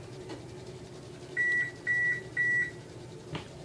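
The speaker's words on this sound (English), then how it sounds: "That's just the sound of the oven. It's saying it's already preheated" Three electronic beeps from an oven signaling it has preheated, evenly spaced, each about a quarter second long, high-pitched and clear over a quiet hum. A soft click follows.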